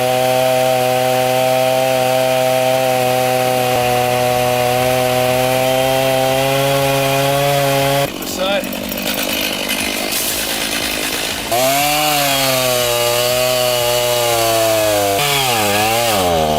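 Chainsaw cutting a tree, its engine holding a loud steady whine that drops and rises as the chain bites into the wood, then revs back up near the end.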